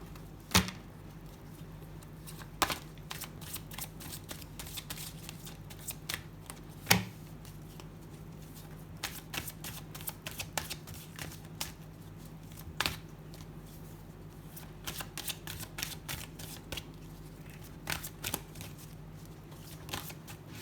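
Angel oracle cards being shuffled by hand, with crisp riffling snaps and soft card slides repeating irregularly over a quiet room hum.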